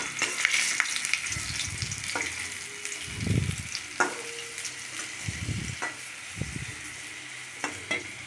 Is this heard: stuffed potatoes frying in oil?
yes